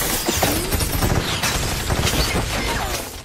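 Gunfire rattles through a war film shootout, dense overlapping shots and crashing impacts packed into a loud, chaotic burst that barely lets up.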